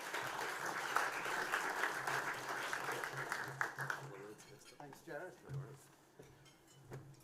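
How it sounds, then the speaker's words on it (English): Audience applause fills a sports awards ceremony hall, sustained clapping for several seconds that fades out as a presenter begins speaking over a microphone. "Give him a round of applause."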